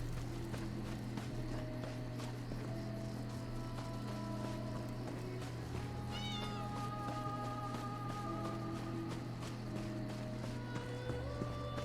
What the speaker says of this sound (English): Not another cat.